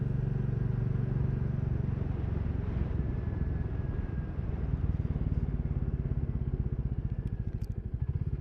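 A Royal Enfield Classic 350 motorcycle engine running close by with a steady low thumping beat that grows slightly rougher and more pronounced toward the end, no talking.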